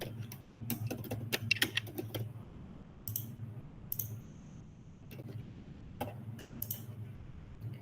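Computer mouse clicks at a desk, sharp, faint, close taps scattered irregularly, some in quick bursts, over a low background hum.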